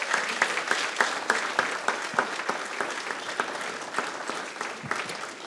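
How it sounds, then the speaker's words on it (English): An audience claps for the speakers at the close of a formal session, a moderately loud round of individual claps that stays fairly even and begins to thin out toward the end, with no voices on top. "give them one more round of applause,"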